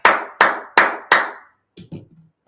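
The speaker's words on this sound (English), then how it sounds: "let's clap it up" Congregation at a Sabbath service clapping in unison: four loud, evenly spaced claps, each ringing out in a reverberant room, followed by a brief pause and a few faint, scattered sounds.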